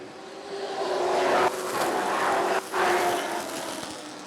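A field of Sportsman race cars at Rockford Speedway accelerating on a green-flag restart, a loud, continuous roar of engines building and swelling with brief dips as the pack surges past.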